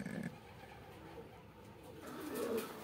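A young pigeon sick with a respiratory illness coos softly at close range, low throaty sounds that swell toward the end with a brief call at the start.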